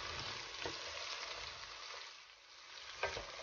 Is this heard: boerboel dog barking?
no